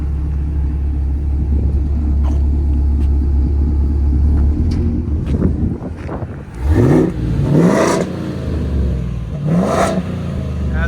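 A 7.3L gas V8 with a resonator delete exhaust, a deep steady idle rumble broken by a few sharp revs that rise and fall near the end, loud and close.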